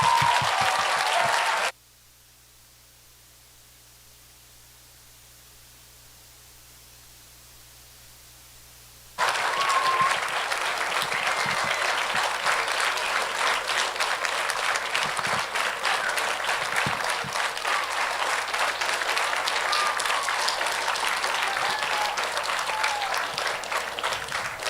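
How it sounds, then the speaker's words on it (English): Graduation ceremony audience applauding graduates, a brief burst of clapping, then a long near-silent gap, then sustained dense applause from a large crowd to the end. "everybody, it's time for us to applaud them"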